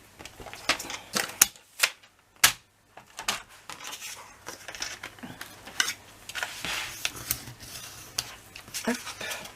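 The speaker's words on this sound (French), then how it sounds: "Et ici, on marque nos plis." Fold lines being scored into paper for a scrapbook album, heard as a string of sharp, irregular tapping and scraping clicks, close and moderately loud, with quieter rustling between strikes.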